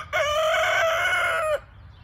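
A pet rooster crows once, a loud, sustained cock-a-doodle-doo about a second and a half long, close by against quiet outdoor background.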